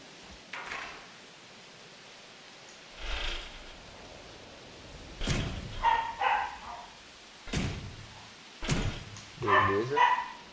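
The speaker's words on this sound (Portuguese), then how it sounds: "essa daí é a cachorra, tá? Sempre aí nos vídeos, aparecendo sempre aí, né? Compartilhando aí do latido dela." A pet dog barks in several short bursts, fairly close, with quiet stretches between, over faint background noise from a Jurassic World Evolution game on Xbox One.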